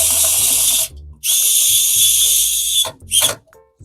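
Power screwdriver driving bolts while assembling a PC case, three loud whirring bursts of about a second each separated by short pauses, close and alone.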